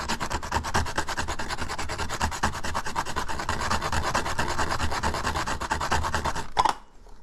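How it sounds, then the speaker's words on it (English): A whole nutmeg is grated on a nutmeg grater for baked coconut custard. Fast, even, close rasping strokes run continuously, then stop abruptly with a small clack. "Let's grate some nutmeg. Freshly grated nutmeg"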